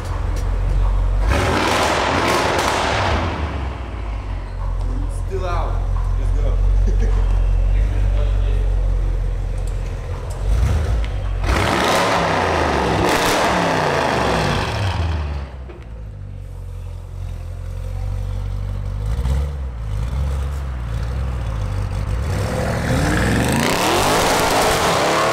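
A car engine revs loudly nearby in repeated surges that rise and fall over a steady low rumble, with brief quieter lulls between the bursts.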